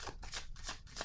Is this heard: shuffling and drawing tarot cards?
yes